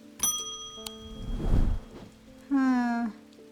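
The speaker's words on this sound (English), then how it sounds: "I can ring the bell from there and that doesn't do anything" A bell chimes in the video game Strange Antiquities. It rings in a few separate, resonant strikes with ringing tails, alongside other soft in-game tones over a quiet background.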